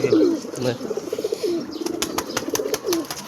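Pigeons coo at a house, several soft throaty coos repeating close by, with a few light clicks and rustles in between and no clear talking.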